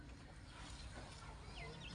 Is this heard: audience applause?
no